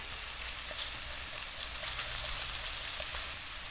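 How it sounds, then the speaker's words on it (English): Butter melts and sizzles in a hot pan, a steady, fairly quiet frying hiss with faint pops and no other sounds over it. "Okay, throw in our butter."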